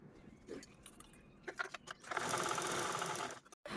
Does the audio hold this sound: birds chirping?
no